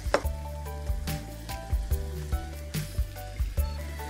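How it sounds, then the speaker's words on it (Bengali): Onion and spice masala fries in a pan for a spiced liver singara filling, a soft steady sizzle broken by rhythmic stirring scrapes about every half second, close up, with a low hum underneath. "একটু ভাজা হয়ে গেলে আমি প্রথমে দিয়ে দিচ্ছি একটু করে লবণ মশলাতে"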